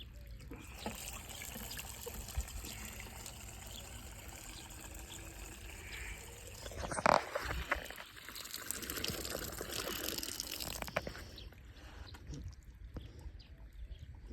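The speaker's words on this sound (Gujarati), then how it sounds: "પાણી આવ્યું મિનરલ વોટરને ટક્કર મારે." Water from a pipe on a farm trickles and splashes steadily at low volume, growing a little fuller partway through, with faint bird calls in the background.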